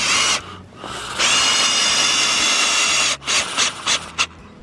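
A power drill drives screws through wooden fence posts braced against a metal bar, part of a 2 m fence build. It whines loudly in a long steady run, then in short stuttering bursts.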